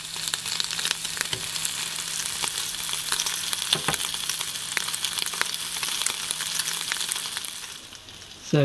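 Bacon sizzles steadily in a hot frying pan at a camping stove beside a VW Type 2 camper van, a dense continuous crackle with occasional pops and scrapes, close and loud throughout.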